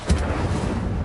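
A fire spell cast in Hogwarts Legacy sounds as a sharp, loud burst followed by a sustained roaring, crackling whoosh of flame.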